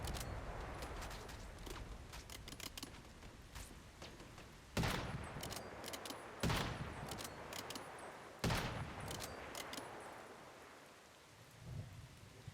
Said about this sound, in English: ooh, a turret